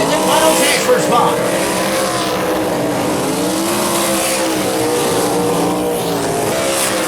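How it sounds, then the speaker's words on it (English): Sprint cars race on a dirt track, a dense, loud engine roar that holds steady throughout as several cars rise and fall in pitch through the turns. "Schmidt now trying to look underneath Lira off the turn number 2, not able to get it done"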